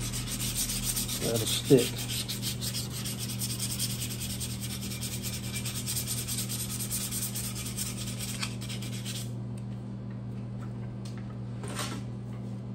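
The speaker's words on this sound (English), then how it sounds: "I'm just sanding down the JB Weld right now" Sanding down cured JB Weld filler on a modified steering column, where old blinker and indicator spots were filled; steady scratchy rubbing strokes run continuously at close range, dropping off near the end, with a brief remark spoken partway through.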